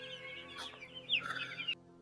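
Chickens on a morning farm in cold weather, huddled together, give a few close clucks and squawky calls over a steady low hum, with one sharper rising call near the middle.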